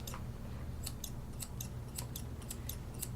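Scissors snip at a bichon's fluffy coat during grooming, a series of faint, crisp metallic clicks in small irregular bursts over a low background hum.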